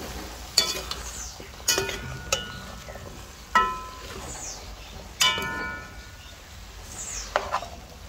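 A pet parrot gives several sharp, piercing calls and whistles at irregular intervals, alone against a soft background hiss from a kitchen where curry chicken is cooking.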